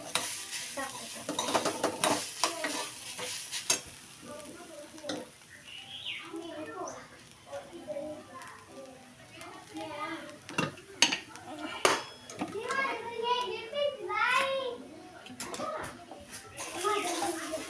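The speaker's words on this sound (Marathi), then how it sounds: "तर आपला हा खोबऱ्याचा खीस भाजत आलाय" Grated coconut roasts in a pan for kheer with a soft sizzle under scraping and stirring, sharp clinks of a utensil against the pan, and a person talking nearby.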